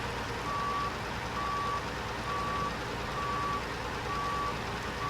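Steady reversing beeps from a truck in SnowRunner, with six evenly spaced tones sounding over the low, continuous rumble of its engine, and no talk.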